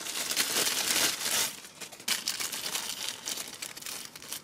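Paper bags crinkle and rustle as an action figure package is unboxed, with the accessories in a small bag and the figure in a larger one; close, continuous crumpling in bursts with no talk.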